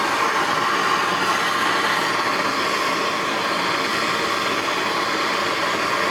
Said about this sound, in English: I'm going to give it a zap with the MAP gas torch.